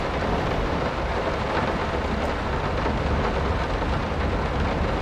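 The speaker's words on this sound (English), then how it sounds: "Oh shit, it's raining hard out there." Heavy rain pours steadily with deep thunder rumbling underneath in the horror game Layers of Fear, a loud, dense, unbroken storm wash with no talking.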